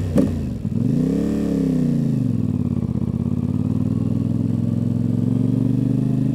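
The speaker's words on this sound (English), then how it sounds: "you probably want to hear some more of that sweet exhaust, so let's get it started again" A DJI-miked 450MT motorcycle engine starts with a quick rev, then settles into a loud, throaty idle rumbling steadily from its exhaust nearby.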